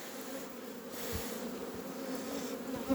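Honey bees hum in a continuous, fairly quiet buzz at an open hive, a steady insect drone with no voices.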